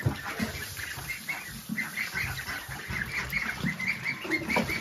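Several ducks kept at a home quack in a steady, overlapping chatter nearby, mixed with rustling and a bit of wing flapping against a constant background hiss.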